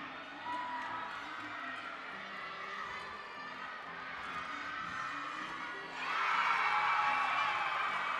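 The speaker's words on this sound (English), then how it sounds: "Their big cheer in the background from a nice stuck landing on the vault from Barbara Dykakis" A gymnastics meet crowd roars through the whole stretch, and the cheering swells louder near the end for a stuck vault landing.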